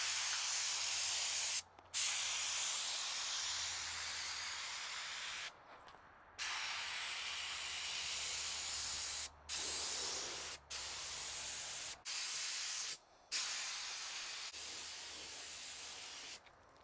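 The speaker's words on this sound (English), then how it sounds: "I finished painting it with the primer" Primer sprayed from a spray gun onto a fiberglass tiki mold: loud, close, steady hissing bursts in several long passes, each cut off abruptly by brief silent gaps.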